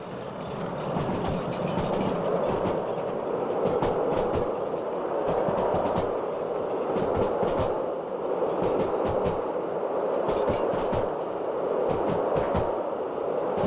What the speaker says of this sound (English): And there rolls the caboose.